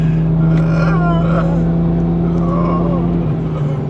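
A 650whp BMW 440i drives under a bridge, its tuned engine and exhaust giving a loud, sustained droning roar. The steady pitch dips slightly near the end.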